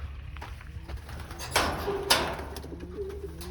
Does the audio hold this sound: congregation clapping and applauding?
no